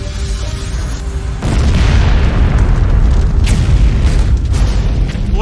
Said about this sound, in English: Flames shoot 400 feet into the air as the chemical tanks ignite